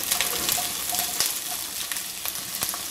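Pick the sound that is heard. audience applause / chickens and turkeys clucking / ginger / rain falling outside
ginger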